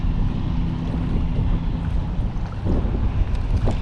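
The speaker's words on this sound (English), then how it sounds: "the wind is so bad now" Strong wind buffets the microphone on a fishing boat out on the water, a steady low roar with gusting rumble and no voices.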